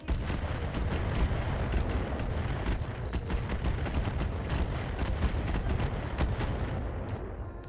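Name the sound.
micro missiles firing and hitting in video game Roguetech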